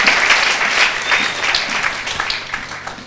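Congregation applauding at a church service, a loud burst of many people clapping together with an uneven, rippling rhythm that tapers slightly near the end.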